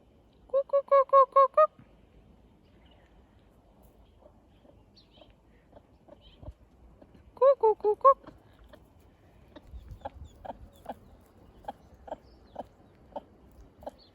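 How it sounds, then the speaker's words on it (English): Free-range hens clucking outdoors in two quick bursts of sharp, rhythmic calls, then a string of softer, spaced clucks further off. "Our chickens have free range most of the day to scavenge outside."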